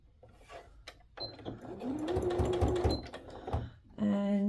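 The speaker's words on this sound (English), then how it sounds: "And just stitch along the edge of the 3 layers." A sewing machine runs in a short burst of rapid mechanical stitching through layers of faux leather, close and fairly loud, followed by a brief whir as it stops.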